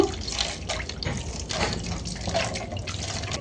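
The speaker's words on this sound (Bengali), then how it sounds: "এবারে হাতটা ধুয়ে নিব" Hands being rinsed under running water after lathering with homemade neem soap, a steady close splash and trickle with scattered drips, no talking.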